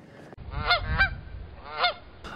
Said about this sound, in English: Oh, geese! They're taking up the whole damn road!